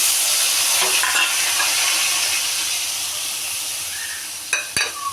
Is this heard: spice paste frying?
yes